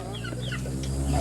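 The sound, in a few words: chickens clucking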